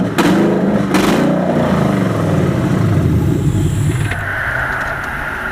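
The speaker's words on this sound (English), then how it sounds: "All right, so it does rev, but as you notice, it was choking when you rev it." A junkyard Ford Crown Victoria with a swapped 4.6 DOHC V8 revs hard, the engine surging up and sagging back roughly as it chokes and stumbles, loud and close, settling to a rough idle.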